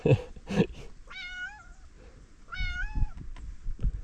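Two drawn-out cat meows, clear and close, separated by a pause, with soft rustling and thumps around them.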